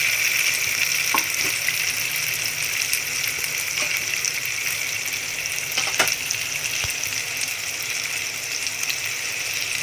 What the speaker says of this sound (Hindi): और इसके साथ हम ये गोला कबाब इसमें रखेंगे।